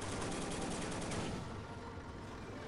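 Dense bursts of rapid gunfire roar in the WW2 strategy game Soldiers: Heroes of WW2, loud and sustained like a machine gun, then easing into a duller rumble.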